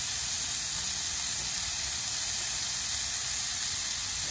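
Onions and burger patties sizzle on a hot griddle for a Shake Shack-style burger, a loud, steady, close-up hiss that runs unbroken with no talking.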